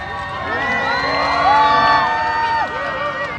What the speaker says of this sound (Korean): 큰 박수로 맞이해주세요. 그룹 드리핀입니다